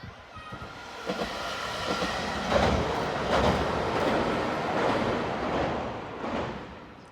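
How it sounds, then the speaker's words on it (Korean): The SL Yamaguchi steam locomotive train rumbles closer into Tsuwano with rolling clatter and rising mechanical noise, heavy and continuous, growing louder as it approaches. "치와노에 먼저 가서 제가 탈 증기관차 오는 것을 기다리고 있었는데"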